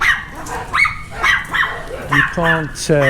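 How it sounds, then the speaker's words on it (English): A small dog barks and yips in short, high bursts, several sharp calls rising toward the end, while a person talks warmly nearby between and over the barks. "look at this little dog"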